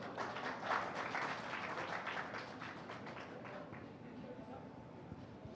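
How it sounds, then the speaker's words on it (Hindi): An audience at the News India education conclave claps in warm welcome, a dense burst of applause that is loudest at the start and then settles into a steady patter. "मैं चाहता हूं एक बार जो सदन है वो जोरदार तालियों से स्वागत करे"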